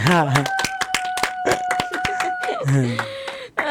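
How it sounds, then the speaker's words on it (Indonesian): Friends in an audience clap together, a run of sharp, fairly rhythmic hand claps close by, mixed with a held musical tone and voices speaking over them. "tepuk tangan dulu teman-teman"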